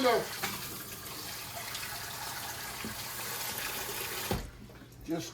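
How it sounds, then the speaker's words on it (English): A kitchen tap runs steadily as a pot is filled with water for cooking corned beef, a close, even rushing hiss that continues for several seconds before cutting off. "we're going to fill this up with water"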